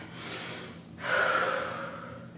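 A deep breath during a yoga warm-up: a soft airy inhale followed by a louder, longer exhale, close and clear with no talking.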